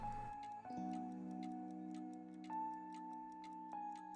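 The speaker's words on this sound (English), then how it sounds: "You can hear the sounds of cogs and springs from it too." Soft mechanical ticking of cogs and springs behind a door in the video game Trails of Cold Steel, a steady clock-like tick repeating over sustained game music, with no talking.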